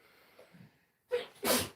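A single close sneeze rings out indoors during a livestream, a quick intake followed by a sharp burst, after a quiet, faint stretch.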